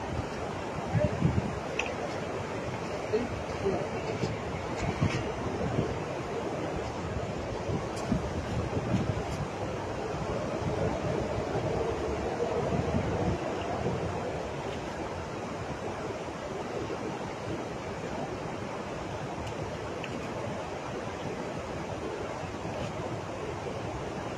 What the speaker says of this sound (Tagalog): Wow, but it's windy